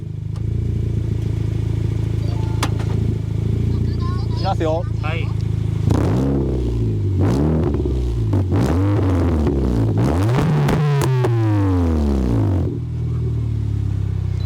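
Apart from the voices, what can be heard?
sports car engine revving in neutral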